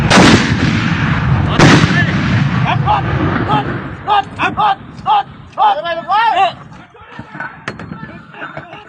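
A Thai army mortar is fired by pulling a rope: two loud, close blasts boom near the start, with people talking and calling out around the weapon afterward.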